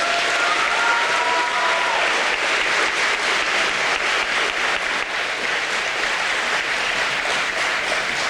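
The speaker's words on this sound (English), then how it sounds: "Graduates, please give these folks the standing ovation they deserve" Graduating students and the audience at a high school graduation ceremony give a standing ovation, a loud, dense wall of clapping that holds steady for the whole stretch with only faint crowd noise beneath it.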